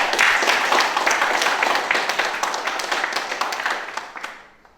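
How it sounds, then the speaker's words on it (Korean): Applause from an audience at a Korean election review forum, brisk, close clapping with distinct individual claps that starts strong, gradually thins, and dies away at the end. "이렇게 큰 박수 한번 드립니다"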